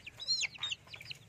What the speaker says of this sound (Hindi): ये हमारी मुर्गियाँ हैं